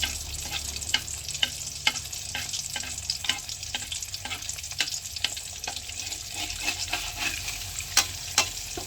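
Burok frying in cooking oil, a steady sizzle throughout with repeated sharp scrapes and clicks of stirring, close and fairly loud, no voices.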